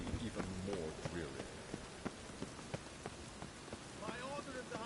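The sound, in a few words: rain falling on a city, from a video game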